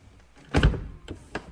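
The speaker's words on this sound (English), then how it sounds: "Let me close the door." The soft-closing door of a Rolls Royce Cullinan SUV pulls shut with a muffled thump heard from inside the cabin, followed by two faint soft clicks as it seals.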